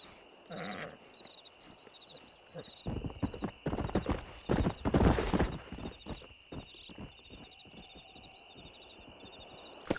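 A stallion's hooves clip-clop steadily at close range in Red Dead Redemption, with chirping insects behind and a louder scuffle of movement midway.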